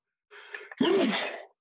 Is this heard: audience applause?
no